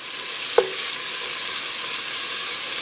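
Onions frying in a soup pot for corn chowder give a steady close sizzle and crackle, with one brief knock or clink near the start and no voices.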